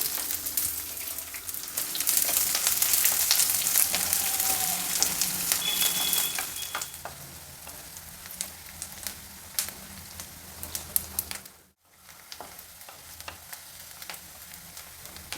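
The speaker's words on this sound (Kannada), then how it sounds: "ಈರುಳ್ಳಿ ಎಲ್ಲ ಟ್ರಾನ್ಸ್ಪರೆಂಟಾಗಿ ಫ್ರೈ ಆಗಿದೆ ಚೆನ್ನಾಗಿ" Two medium onions fry in oil in a pan with curry leaves, urad dal and chana dal, starting as a loud, dense hiss that eases into softer popping crackles, with a brief dropout toward the end.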